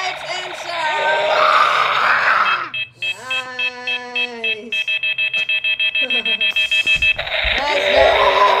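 Green bump-and-go toy tank with lights and sounds sets off a rising electronic siren followed by a rapid run of beeping tones, loud and close, with children's excited voices before and after.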